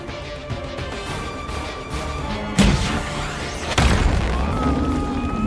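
A tower collapses after gunfire in an action film, heard as a loud rumbling roar with two heavy crashing impacts midway and a sustained debris-filled din.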